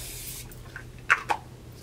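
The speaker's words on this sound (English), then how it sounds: "I've never tried a setting spray that makes me want to keep spraying it on my face over and over again." Makeup setting spray misted onto a face: two quick, soft hissing spritzes close together, faint over a quiet low background hum.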